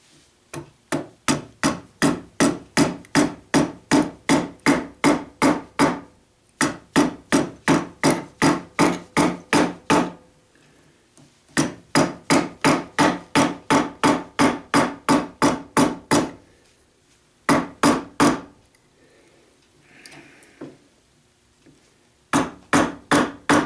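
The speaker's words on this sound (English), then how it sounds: "when I'm hammering my chisel it's just bouncing" Steel chisel struck repeatedly with a hammer while cutting into wood for a Rickenbacker 325 guitar build; sharp, loud, evenly spaced blows in long rapid runs separated by brief pauses, close and alone without talk.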